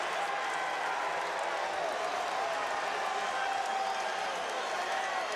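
A college basketball arena crowd at a West Virginia versus Syracuse game roars steadily after a dunk, a sustained broad wash of cheering with commentary voices faintly under it.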